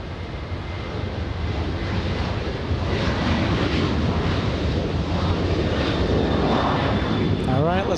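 A Southwest airliner roars as it takes off at LAX, a loud, sustained engine rumble building over the stretch with wind buffeting the microphone and people talking underneath.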